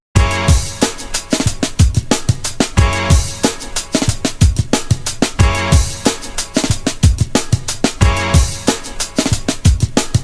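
A punchy drum beat at 90 beats per minute, steady kicks and snares repeating in a loud, even groove with no voices.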